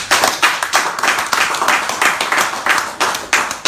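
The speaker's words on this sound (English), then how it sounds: "Please give them a round of applause." A live audience at an evening talk show gives a round of applause, dense rhythmic clapping from many hands, loud and close, lasting a few seconds.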